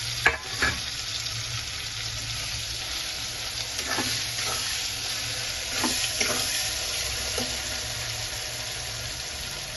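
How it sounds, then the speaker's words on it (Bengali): Onions sizzle and fry in hot oil for an egg curry, a steady close crackle with a few sharper spatters and stirring clinks, with no talking. "পেঁয়াজ কটা ছেড়ে দেবো একটু।"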